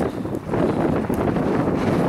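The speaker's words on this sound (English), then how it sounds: "It's very windy." Strong wind blasts across an open prairie landscape at a buffalo jump cliff, a continuous loud roar buffeting the microphone with brief dips in force.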